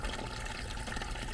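Water drains steadily from an opened valve at the bottom of a shop-built 1,000-gallon crude oil tank, making a continuous close gushing rush.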